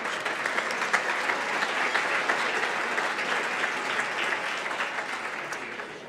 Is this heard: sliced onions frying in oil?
no